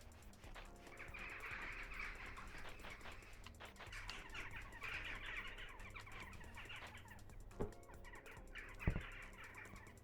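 Crows call and squawk in a busy outdoor video game ambience over a low steady rumble, with two sharper knocks near the end.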